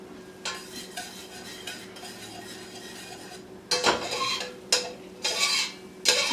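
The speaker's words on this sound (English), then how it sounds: "The biggest deal is just keep stirring so you don't burn anything." A spoon stirs chicken pot pie filling in a pot, scraping and clinking against the metal. A quieter stretch with a steady background hum gives way to louder, close bursts of scraping near the end.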